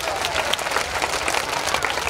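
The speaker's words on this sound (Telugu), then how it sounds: "శ్రీకాంత గారికి ఒకసారి గట్టిగా చప్పట్లు" An audience applauds loudly for a man named Srikanth at a Savitribai Phule Jayanthi celebration in Kalwakurthy in 2023, a steady, dense wash of clapping from a crowd that holds for the whole stretch.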